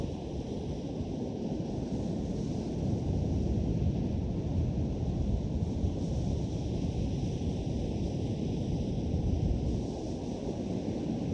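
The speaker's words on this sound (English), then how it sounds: "Enjoying the sound of the ocean." Ocean waves wash in a soft, continuous surf, a low rumbling roar with wind mixed in, fairly quiet and with no talk.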